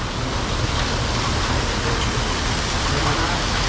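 Steady, dense rain hiss fills the whole stretch on asphalt during a mountain bike pilgrimage, a constant broadband wash with no breaks, loud and close.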